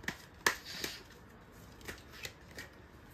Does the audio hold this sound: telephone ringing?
no